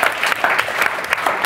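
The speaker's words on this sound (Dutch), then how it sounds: "Mag ik nog een heel hartelijk applaus voor Vincent Blok." A warm round of applause for a speaker at a Dutch tech and nature talk event: brisk, close, dense clapping from an audience, loud and unbroken with sharp individual claps standing out.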